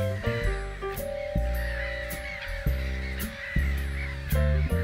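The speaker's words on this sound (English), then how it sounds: "The whole colony sounds the alarm." A breeding colony of black-headed gulls in the Netherlands raises the alarm, with loud, harsh, overlapping calls repeated continuously and close by.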